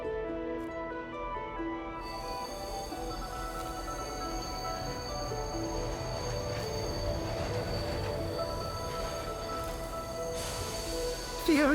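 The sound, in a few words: train arriving at a station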